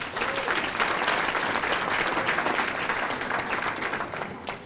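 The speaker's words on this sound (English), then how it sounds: "we'll still give them a round of applause" Audience applause at a 2019 bowling association adult awards banquet, a steady round of clapping from a roomful of people that holds even for several seconds before tapering slightly.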